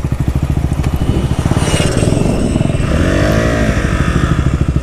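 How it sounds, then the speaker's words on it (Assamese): A KTM Duke 250 motorcycle fitted with an X3 exhaust kit idles with a loud, rapid, throbbing pulse up close, then revs up briefly before settling back down. "সাউন্ড ডাঙৰ হলে বাইক চলাই ভাল লাগে"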